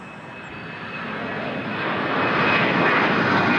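Jet engine roar of a Jazz airliner taking off from runway 05 at Toronto Pearson, a broad steady rumble that builds gradually louder throughout, heard alone without voices.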